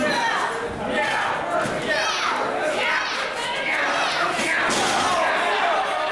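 A crowd of children and adults at a live pro wrestling show cheers and shouts continuously, loud and dense with excited high-pitched voices rising and falling, and occasional thuds from the ring.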